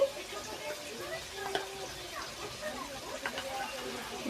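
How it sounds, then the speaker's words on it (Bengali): Cumin paste sizzling as it hits softened tomato in a pan for a Bengali chicken curry cooked without water, a steady soft frying hiss with faint stirring clicks and no talking. "দেখো জিরে বাটা দিয়ে দিচ্ছি"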